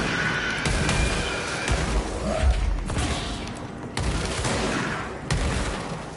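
Gunfire from a weapon in the video game Control, loud repeated shots and crackling bursts spread across several seconds, with sharp impacts and mechanical clanks between them.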